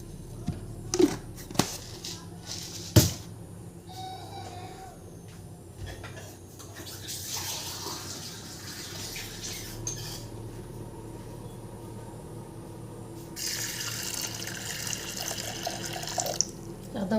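Tap water running in a kitchen sink to soak lentils, a continuous splashing flow with a few sharp knocks and clatters early on and brighter gushes later.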